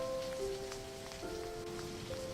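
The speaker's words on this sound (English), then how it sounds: "Oh, now it's raining." Rain falls steadily as a soft, constant patter, with a sustained musical drone running beneath it.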